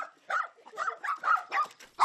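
Rescued dogs at an animal rescue centre bark in quick, uneven bursts, several yaps close together at moderate volume, with no talking.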